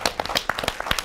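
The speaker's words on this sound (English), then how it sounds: "Give a round of applause for my panel," Applause from a live talk-show audience for a panel of guests, a brief burst of scattered hand claps at close range with no talk over it.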